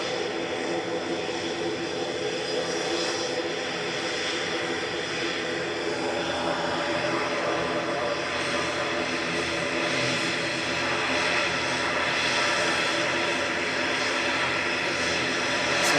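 Aer Lingus ATR turboprop aircraft at Manchester Airport, its steady engine and propeller roar holding loud and even throughout with a faint rise near the end.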